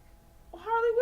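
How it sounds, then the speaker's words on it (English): A pet cat named Harley gives a short rising meow at the end, close and fairly loud after a near-silent lead-in. "what you meowing for?"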